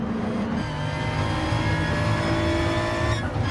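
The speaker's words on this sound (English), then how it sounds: "Oh, let's accelerate whilst on the dirt." A race car in Gran Turismo Sport accelerates on dirt at Laguna Seca, its engine roaring loud and steady throughout with a rising harmonic whine, joined briefly by tire scrub and skidding.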